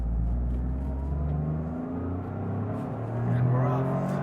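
A Toyota GR Corolla Morizo Edition heard from inside on a hot lap, its engine droning steadily and rising in pitch under acceleration, loud and close with a continuous cabin rumble.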